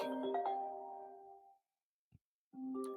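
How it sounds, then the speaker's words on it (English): A mobile phone ringtone chimes loud and close during a talk on becoming an artist, its melodic tones sounding for about a second and a half, falling silent, then starting again after a brief click. "Can you hear my phone?"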